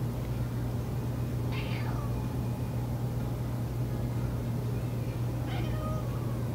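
A cat that seems spooked gives two drawn-out meows several seconds apart, moderately near, over a steady low hum and hiss.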